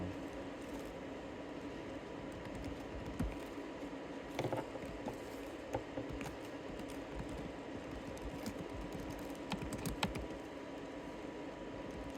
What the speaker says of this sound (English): my cat is standing on my keyboard